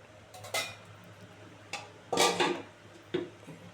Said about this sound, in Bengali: এবার একটু ঢাকা দিয়ে দেবো, বেশি না 2 মিনিটের জন্য ঢাকা দিয়ে দেবো